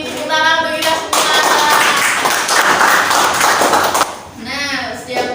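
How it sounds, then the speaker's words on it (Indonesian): Class participants give a burst of hand clapping lasting about three seconds, dense and fairly loud. A voice speaks just before and again right after it. "Tepuk tangan bagi kita semua"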